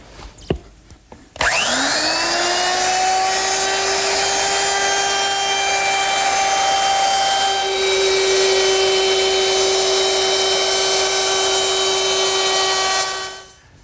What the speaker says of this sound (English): I'm going to use my router, which is equipped with 1/4 inch rounding over bit